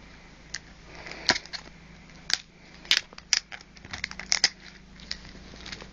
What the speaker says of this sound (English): So take all the stickers off.